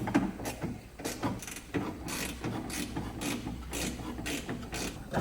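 A ratchet clicks repeatedly at close range while loosening a nut on a BMW E34 barn-find car, the rapid pawl ratcheting coming in uneven bursts with metallic clatter.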